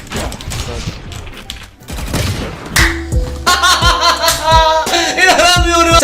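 Rapid gunfire bursts from a video game play in the second half, loud and layered with mechanical game effects, preceded by quieter game noise and laughter while a streamer talks over it.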